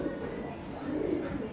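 A pigeon coos softly a few times from a bird coop in front of a house, low and murmuring, close by against a quiet background.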